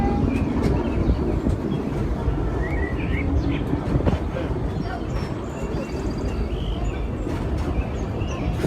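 The Disneyland Railroad steam train rolls along with a continuous rumbling clatter of wheels and cars, while birds chirp faintly and voices murmur in the background.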